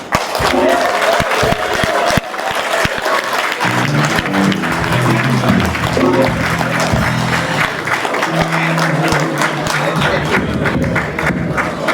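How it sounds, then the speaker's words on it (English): A crowd at an awards ceremony applauds steadily for about twelve seconds, loud dense clapping with a few voices mixed in. "You need a bigger applause than that."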